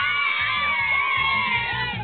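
A crowd of people at an outdoor water park shouts and cheers together in rhythmic bursts, loud and close.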